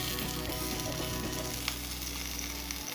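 Palestinian musakhan rolls frying in a little olive oil in a pan, giving a steady, close, loud sizzle that stays even throughout with no talking.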